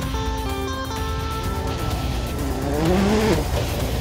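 A Citroën DS3 WRC rally car on a gravel stage in the Diois, its engine droning steadily and loudly, then revving with a rising pitch near the end, with no voices.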